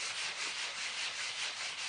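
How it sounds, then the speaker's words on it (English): A worn sanding block rubs back and forth across an embossed papercraft surface to distress it, producing a steady, close, rhythmic scratchy hiss of repeated strokes with no talking. "My sanding block is coming to the end of its life, but it's doing it enough to show you."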